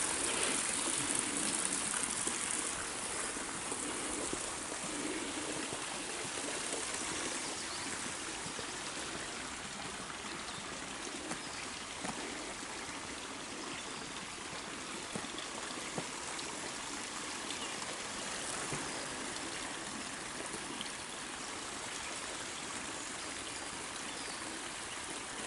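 Water flows continuously through a creek along the Empire State Trail, a steady broadband rush and trickle that stays even throughout, with no voices.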